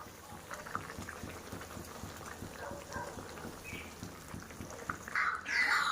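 Tangra fish curry broth simmering in a pot, a quiet steady bubbling with soft irregular pops, ending in a louder burst of stirring or sizzle.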